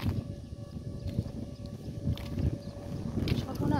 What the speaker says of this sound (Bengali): হ্যাঁ সাইরেন বাজার মতো তো আওয়াজ